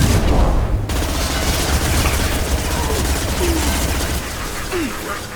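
Sustained gunfire from a Mass Effect 2 battle, dense and loud throughout with a sharp dropout near the start, bursts running together like a fusillade with a few small whistling tones over the din.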